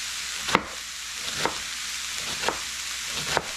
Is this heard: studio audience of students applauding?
no